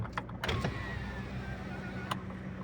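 Electric window of a car sliding down, a steady motor whine with short clicks at the start and a thump near the end, close and clear over a low cabin hum.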